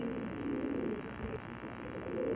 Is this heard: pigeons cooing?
yes